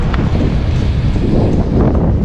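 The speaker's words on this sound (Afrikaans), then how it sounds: "Die wind is so lekker warm." Warm wind blowing hard at a beach during a life-saving competition, a loud, continuous roar and buffeting against the microphone with a faint hint of surf underneath and no talk.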